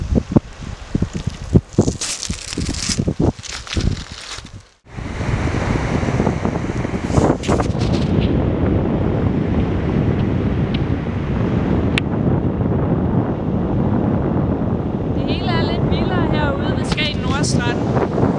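Strong wind roars across the microphone on the open beach at Skagen Nordstrand, a loud continuous rush with surf churning beneath it; gusts buffet the mic at the start, and a voice briefly speaks near the end.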